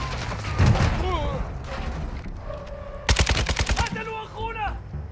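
Machine gun fire from above in Call of Duty DMZ, with scattered shots early and then a dense rapid burst midway, loud against background game sounds; someone talks intermittently.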